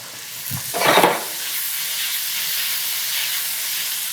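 Food dropped into a hot pan with a bay leaf starts frying, a brief crackling burst around the first second that settles into a steady, soft sizzle close by.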